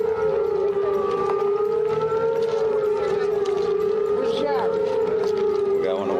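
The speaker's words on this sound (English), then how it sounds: "You hear the sirens right away" Air raid sirens at a military base in Afghanistan wail steadily, warning of incoming mortar rounds: a loud, continuous rising-and-falling tone that fills the whole stretch, with faint background noise beneath.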